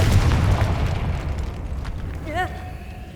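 Confringo blasting spell in Hogwarts Legacy, a heavy booming explosion up front that rumbles and fades, with a voice heard over it and a brief whooshing shimmer near the end.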